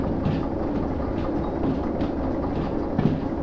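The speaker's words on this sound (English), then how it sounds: "we're just going to gently cruise this train into" A train rolls along the rails in the simulator game Derail Valley, a loud steady rumble with a few faint clacks as it cruises slowly into a yard bay.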